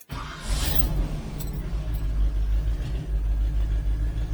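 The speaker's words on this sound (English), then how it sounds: "So let's go ahead and start the engine." Car engine turning over and settling into a steady idle, a low continuous rumble that stays even and moderately loud after a brief start at the beginning.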